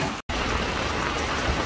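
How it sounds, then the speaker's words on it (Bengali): Rain pours steadily over the Sundarbans around a trawler, a dense, close hiss that cuts out for a split second before resuming unbroken. "অদ্ভুত সুন্দর বৃষ্টি হচ্ছে সুন্দরবনে"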